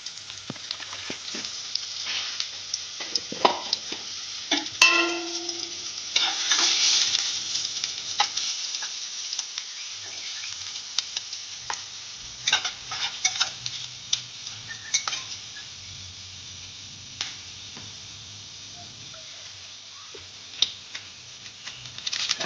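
Dried red chillies and Kashmiri chillies frying in a pan for a Bengali leafy greens dish, a moderate sizzle with scattered sharp crackles and pops and occasional stirring clicks, no talking.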